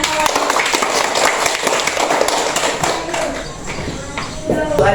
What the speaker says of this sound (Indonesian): Tepuk tangan untuk pertanyaan kawan